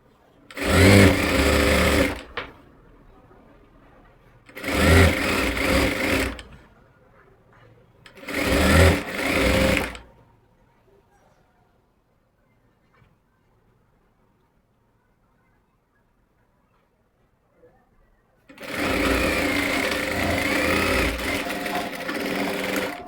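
A sewing machine stitches a pocket onto palazzo pants in four close, loud runs: three short bursts, a long quiet gap, then a longer steady stretch of whirring.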